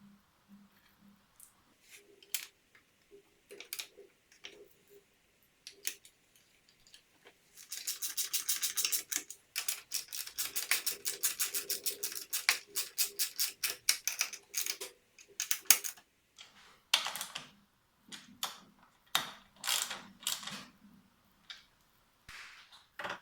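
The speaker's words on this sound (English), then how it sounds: "using the 4 original bolts, we'll bolt it back in place" A ratchet turns the four original bolts back into the lock plate of a 2018 Kawasaki Z900RS while a tail tidy is installed, with rapid close clicking bursts between quieter taps and handling noises.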